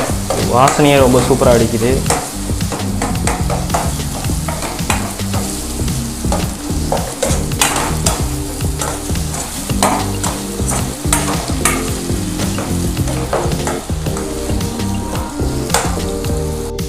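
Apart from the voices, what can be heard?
stirring and frying paneer masala in a pan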